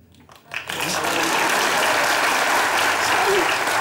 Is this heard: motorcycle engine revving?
no